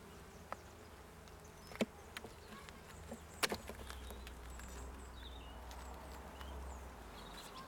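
Honeybees buzz around comb in an Essex hive, a soft close hum with occasional louder passes of individual bees and faint taps and rustles in the background.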